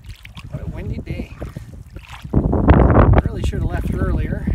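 Gusty wind blowing across a lake during a canoe trip: loud, rough buffeting rushes over the microphone and surges stronger partway through, with a person talking underneath.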